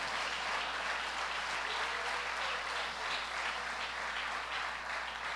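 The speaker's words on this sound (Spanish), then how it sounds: "dale aplauso al Señor." Steady, dense applause from a church congregation fills the space, a continuous wash of clapping at even loudness with no voice over it.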